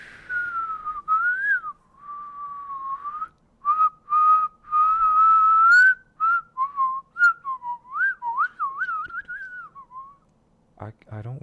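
A person whistles a wandering melody through pursed folds at the side of the lips rather than the center, in a steady series of clear, close phrases with short pauses, ending in a brief burst of other noise.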